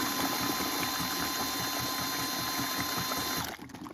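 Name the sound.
DeWalt drill with mixing paddle mixing parging mortar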